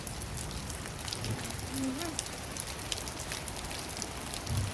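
Rain falls and runs down a house window, a faint steady patter with scattered drips and a soft, brief tonal sound in the middle.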